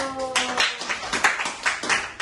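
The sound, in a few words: class clapping hands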